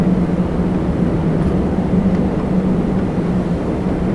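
A fixed-wing airliner taking off at Toronto Pearson airport, a steady broadband engine roar with a low droning hum holding constant throughout, heard from a distance with no talk.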